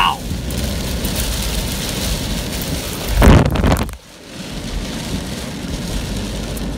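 Heavy rain pours steadily during a tornado chase in Illinois, a dense roaring hiss with a louder rushing surge midway, as if from a passing gust or vehicle, then settling back to a constant downpour.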